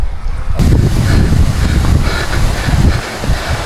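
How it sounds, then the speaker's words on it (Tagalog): Wind gusts across an open potato field during harvest, a loud steady roaring rush buffeting the microphone throughout, with no clear voices. "Buti mahangin."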